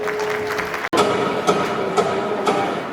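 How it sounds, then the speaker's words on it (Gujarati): Audience clapping for a performance by young Class 3 schoolchildren, a steady dense patter of many hands filling the hall throughout, with a brief dropout near the start. "તો આપ સૌ તેમને તાળીઓના ગડગડાટથી વધાવી લેજો"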